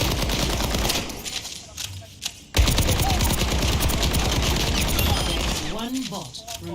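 Rapid automatic weapon fire rattles through an Overwatch 2 tutorial in dense, continuous bursts with a brief pause midway, mixed with game effects and a voice talking over the shooting.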